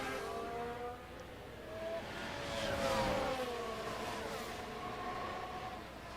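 Race cars in a racing video game round at the Netherlands circuit, engines droning and whining steadily as several cars run together, swelling to a louder pass in the middle and easing off again, with no talk.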